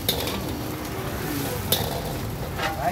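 Rice fries in a pan with a steady, dense sizzle and faint scraping of a stirring utensil, close and continuous, with a couple of light metallic clinks.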